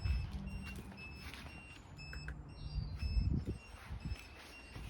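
A Radwagon e-bike's turn signal gives a faint, repeating electronic chirp, a series of short high tones over soft outdoor background noise.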